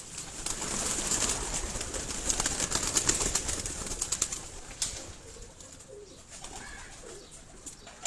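Pigeons on a Karachi rooftop coo in low, throaty bursts while wings flap and rustle close by, with an airy outdoor hiss and some handling noise throughout.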